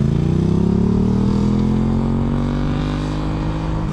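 Motorcycle engine running steadily up close, a loud, continuous throbbing drone with a slight rise in pitch, heard alone without talking.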